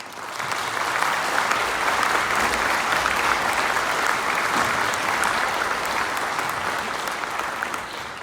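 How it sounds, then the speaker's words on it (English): Audience applause at a ninth-grade all-region school band concert, a broad, even roar of clapping that swells in after a moment and holds steady throughout. "a huge round of applause."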